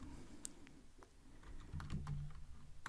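Keystrokes on a computer keyboard while writing Python code, a quiet run of uneven clicks and taps close by, sparse at first and then quicker, with no talk.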